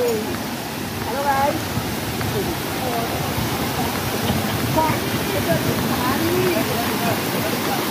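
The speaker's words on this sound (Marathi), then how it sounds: "खूप सुंदर असा हा धबधबा आहे" Dhangar waterfall near Badlapur pours steadily, a continuous broad roaring wash of falling water, close and loud, with faint crowd voices and calls mixed beneath it.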